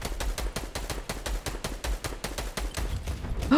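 Rapid gunfire from the Fortnite video game, a steady stream of sharp, evenly spaced shots rattling loudly for several seconds, with no talking over it.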